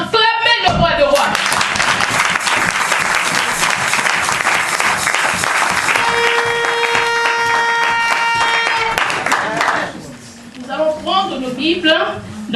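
A church congregation bursts into sustained, loud applause and cheering acclaim, with a steady held musical tone entering midway, before the clapping thins and gives way to scattered voices.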